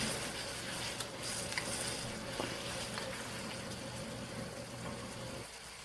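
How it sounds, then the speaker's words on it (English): A leek sauce bubbles and simmers in a pan while a spoon stirs it, giving a soft, steady hiss with faint scraping and a few light knocks before the sound drops away at the very end. "Let's stir it again."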